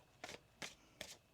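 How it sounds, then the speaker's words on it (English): Tarot cards shuffled in four short, crisp riffling bursts, close and fairly quiet, with brief pauses between each. "One more shuffle here, please, and thank you."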